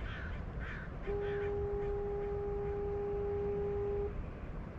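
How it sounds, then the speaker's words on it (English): A low, steady two-tone foghorn blast sounds for about three seconds over a rumbling outdoor background near ocean dunes, after a few bird calls. "And it sounds like a foghorn."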